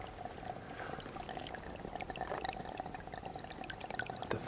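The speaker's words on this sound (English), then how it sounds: "a fountain in the middle," Water bubbles and trickles steadily from a fish-shaped spout in a church fountain, a faint continuous splashing wash with small drips, heard alone at a distance.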